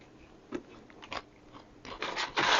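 Close, crisp bites and crunching as activated nuts are chewed, starting with a single sharp bite and building into louder, denser crunches toward the end, with no talk.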